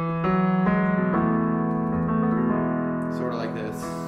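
Piano playing the intro of a song, with slow sustained chords and single notes ringing and overlapping at a moderate, even level.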